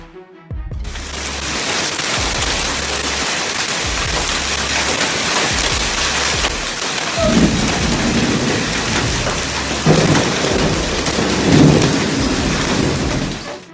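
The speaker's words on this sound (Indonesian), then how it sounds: "Petir dan guntur diikuti oleh hujan es dan hujan lebat melanda wilayah Tokyo dan 5 prefektur tetangga." Heavy rain and hail in a Tokyo thunderstorm, a dense continuous roar of downpour with low rumbling thunder swelling several times, loud and close, with no voices.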